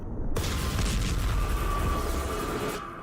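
Missile strikes on Gaza explode in a sustained, heavy rumbling roar that fills the whole stretch, with a steady tonal drone running through it and the blast noise easing off at the very end.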